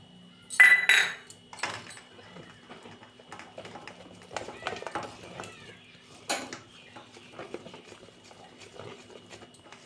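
Dhokla batter being stirred in a bowl, with a loud burst of utensil clatter against the bowl at the start, then softer intermittent scraping and clinks throughout; no talking.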